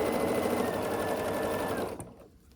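A sewing machine stitches across a quilt block seam for a no-point star block, running steadily and loud for about two seconds before stopping abruptly into near quiet.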